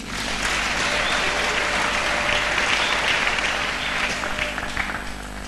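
A church congregation at a French-language sermon bursts into sustained applause, a dense, loud wash of many hands clapping continuously throughout without pause.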